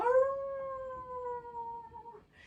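A person imitates a werewolf's howl while moving into an upward-dog yoga pose: one long, loud, tonal howl lasting about two seconds that glides slowly downward, heard alone.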